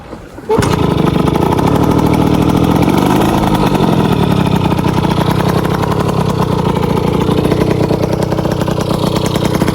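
Derbi 50cc moped fitted with an Airsal 70cc kit starts up and runs steadily, a loud, close, raspy two-stroke buzz that holds at a constant rough idle with a slight rise in pitch early on.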